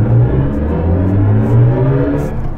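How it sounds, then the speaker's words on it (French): A BMW i5 M60 electric car accelerates hard in a launch control start, its motor whining and humming loudly with rising tones, close and continuous without any voices. "il faut que je vous refasse un launch control"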